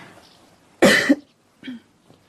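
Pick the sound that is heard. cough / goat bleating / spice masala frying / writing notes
cough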